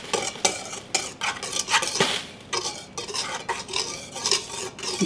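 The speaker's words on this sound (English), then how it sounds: "Take a whisk. We're just going to mix that up so it's nice evenly distributed." A whisk scrapes and clinks rapidly against a bowl as a dry chicken coating mixture is stirred, steady rhythmic strokes close up with no voices.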